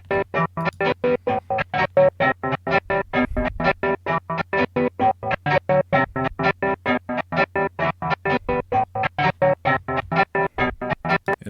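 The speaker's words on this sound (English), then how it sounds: "I put it in gross beat and put a gate on it," A guitar melody is chopped by a Gross Beat half-beat gate in FL Studio, cutting into rapid, evenly spaced bursts with hard silences between them, choppy and loud with no voices.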